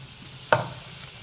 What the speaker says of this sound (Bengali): এই যে গরম তেলে পেঁয়াজি ছেড়ে দিয়েছে